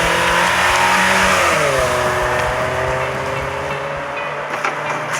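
A car engine revs loudly and close as the car accelerates, its pitch climbing steadily with a shift partway through and the drone continuing as it pulls away.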